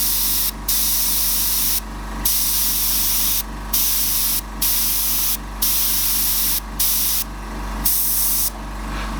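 Airbrush spraying sepia paint while misting around a Joker portrait, a steady hiss with a low compressor hum beneath, broken by repeated short bursts as the trigger is pulled and released roughly every second.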